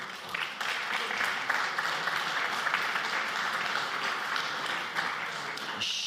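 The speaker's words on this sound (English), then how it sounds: "big applause for all of you." Sustained audience applause for a chemistry panel, a dense, steady clatter of many hands clapping throughout, fading slightly just before the end.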